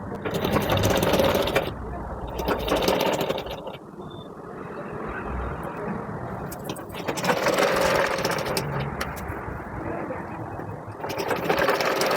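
A sewing machine stitches the hem of an umbrella frock in bursts of steady whirring, running for a few seconds at a time with short pauses between. Someone talks over it at close range throughout.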